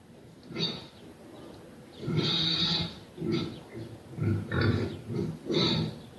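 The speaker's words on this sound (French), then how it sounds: "Voici un son de cochon." A pig oinks and grunts, played from an Alexa smart speaker, in a string of short, nasal bursts, close and fairly loud, coming faster toward the end.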